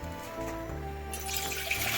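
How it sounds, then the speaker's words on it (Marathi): Plenty of cold water is poured over homemade paneer curds sitting in a cloth; a brief splashing rush swells partway through over steady background music. "थंड पाणी टाकायचं आहे भरपूर असं"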